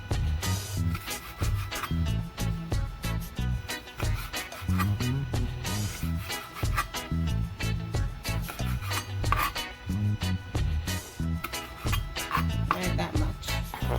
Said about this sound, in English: I'm going to cut up my hot pepper.